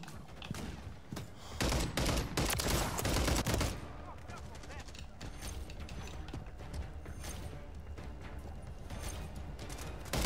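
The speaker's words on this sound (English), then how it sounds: "What the hell is shooting at me there?" Video game gunfire in bursts and rapid volleys, loudest near the start and then a steady, busier stretch of shots and mechanical clatter continuing to the end.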